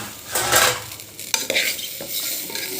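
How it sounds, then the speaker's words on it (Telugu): Two medium-size tomatoes are stirred in a sizzling pan while making gongura dal, with a spoon scraping through them in a few uneven strokes over a continuous frying crackle. "కొంచెం ఒక్క రౌండ్ ఇలా తిప్పాలండి"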